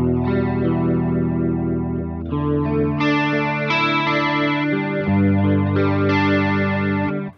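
Electric guitar played through a Hotone Ampero II Stomp with a chorus effect on top of a second overdrive, sustained shimmering chords ringing continuously and loud with no talking.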